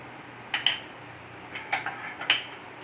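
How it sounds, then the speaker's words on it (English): A whisk clinks in quick bursts against a pan as a sauce with mixed herbs is stirred, three short metallic flurries separated by pauses, close and clear with no voices. "whisk it again"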